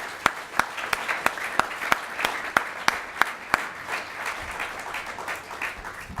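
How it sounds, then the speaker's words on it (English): Applause for a panel discussion's panelists at an event on ending homelessness, heard as several sharp, evenly spaced claps that fade into a lighter, scattered patter from the audience. "let's give our panelists a big round of applause"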